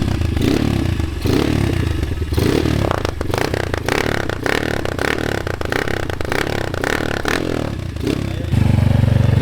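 A brand-new 2022 motocross motorcycle revs close by, its engine rising and falling in repeated bursts with rattling, clattering mechanical noise, loud and continuous without talk.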